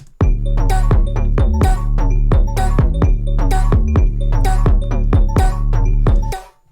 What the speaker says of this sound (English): ring modulated reverb